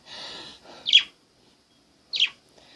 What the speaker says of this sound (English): And these are the birds.